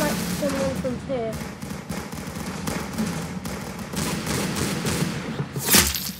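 Sniper shots and rapid gunfire crackle in the Roblox game Arsenal, with short bursts and a sharp louder shot near the end, mixed with game effects.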